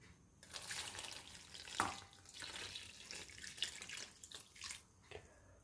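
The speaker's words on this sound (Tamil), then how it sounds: "இந்த தண்ணியை வடையில் ஊற்ற போகிறேன்" Hot water pours steadily onto vada at close range, splashing and trickling for several seconds with a few louder gushes.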